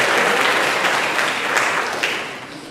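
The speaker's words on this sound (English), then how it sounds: "one big round of applause for all of our awards, musicianship, and outstanding character" Applause at a school band awards banquet, a full, steady round of clapping from the audience, close and loud, tapering slightly at the end.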